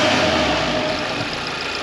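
A car engine idles steadily through a Racingline R600 performance airbox intake, giving a continuous close, loud broadband hum with induction hiss and no talk.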